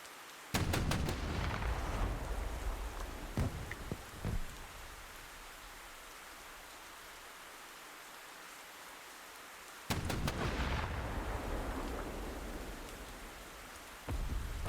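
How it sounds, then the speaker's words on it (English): Anti-tank guided missiles firing on the move in a video game, two heavy launch blasts, each opening with sharp cracks and trailing into a long rumbling roar, separated by a quieter stretch of steady noise. "Using a couple of anti-tank guided missiles as well."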